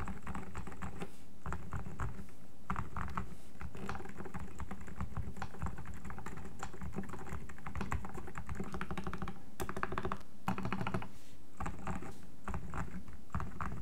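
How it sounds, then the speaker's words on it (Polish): Steady, fast typing on a mechanical keyboard fitted with silent switches, producing a continuous patter of soft, muted key presses close by with no speech. "żebyśmy jednak mieli jakiś punkt odniesienia do tego, jak aktualnie brzmi klawiatura"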